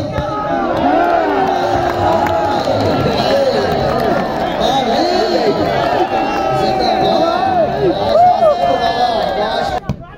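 A large crowd at an outdoor match between two competitors roars with cheering and shouting. Many voices overlap loudly and continuously for about ten seconds.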